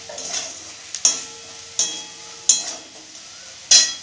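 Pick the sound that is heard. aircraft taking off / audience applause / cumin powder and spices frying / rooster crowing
cumin powder and spices frying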